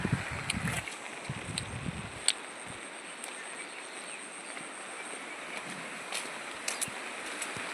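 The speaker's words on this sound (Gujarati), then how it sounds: "જો જાય જ છે પાણી" Rainwater flowing around a village in the rainy season gives a steady, close broadband rush, with a few soft knocks and thumps early on and no voices.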